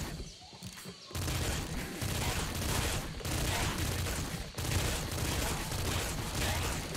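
Dense, continuous bursts of rapid gunfire from the video game Nuclear Throne, heard loud and close for several seconds after a brief quieter opening, with occasional heavier impacts and no speech.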